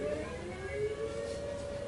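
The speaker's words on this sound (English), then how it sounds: "Air raid siren." An air raid siren drones in a steady, faint wail with layered sustained tones, heard alone without voices for under two seconds.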